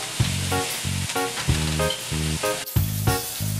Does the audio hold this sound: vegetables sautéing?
yes